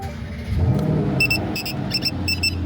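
A car's engine runs steadily with a low, mid-level rumble while driving, some intermittent high clicking or ticking sounds cutting in over it, no talking.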